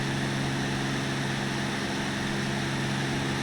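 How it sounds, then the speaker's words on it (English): Steady broadband wind rush over an aircraft canopy in the X-Plane 12 flight simulator, a continuous loud hiss layered over a low engine drone with no talking. "Now you're going to start to hear that wind hitting the canopy."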